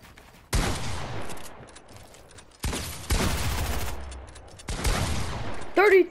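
Gunfire in the video game Fortnite comes in three loud bursts of rapid shots separated by quieter gaps, with a short chiming effect at the end.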